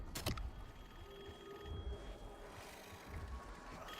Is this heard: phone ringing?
yes